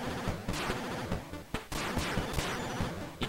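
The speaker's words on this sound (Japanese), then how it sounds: "あ、当たったら爆発するのね、これ。" Explosions burst in a PC Engine shooting game as shots hit their targets: a dense run of sharp, crackling blasts, several in quick succession, filling the clip without speech.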